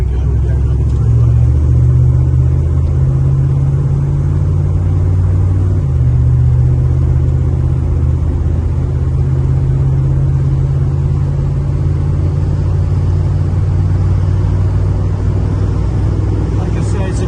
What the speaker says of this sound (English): here we go, we're getting on the freeway